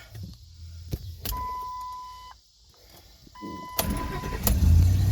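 A car engine cranks with a starter and catches, running on premium fuel, with short electronic beeps and a whine heard alongside before the engine settles into a louder idle near the end.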